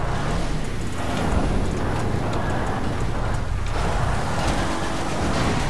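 Truck driving in the video game GTA RP, a continuous loud engine and road roar with a faint high whine above it, steady throughout with no talk.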